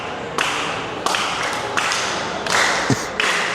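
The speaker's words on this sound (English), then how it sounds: "Can hear them clapping in the background." A crowd at a pickleball championship final in Shenzhen, China, breaking into repeated bursts of clapping in waves, with sharp claps and thuds between rounds of applause.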